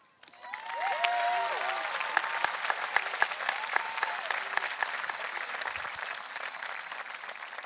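Graduation ceremony applause from a high school audience for senior student speakers swells quickly and holds as sustained clapping with scattered cheers and whistles, fairly distant in a large venue.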